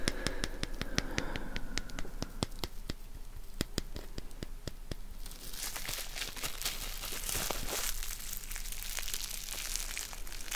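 Plastic bubble wrap crinkled and squeezed close up, a steady dense crackle of rustling plastic peppered with sharp popping snaps, quiet and intimate with no talking.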